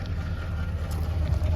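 A Buick Riviera's engine runs at a steady low rumble while driving along a road, close and moderately loud, blended with road noise and a faint wind hiss.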